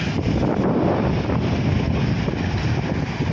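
Strong Mediterranean sea waves and gusting wind pound a fishing boat while nets are hauled, a loud, continuous roar of rushing water and wind buffeting the microphone, with no voices.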